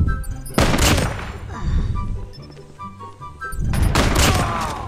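Loud bursts of rapid pistol gunfire in Call of Duty Mobile, two heavy volleys separated by a short lull with background game noise.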